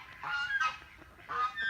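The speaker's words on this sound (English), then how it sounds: "what the camera's on is the new goose" A newly arrived goose gives two honking calls, nasal and fairly close, separated by a short pause, with no talk.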